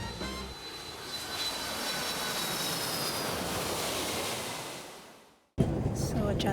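Steady broadband roar of an airliner cabin in flight, a loud continuous whoosh of engine and air noise that fades out near the end before a short burst of different loud noise.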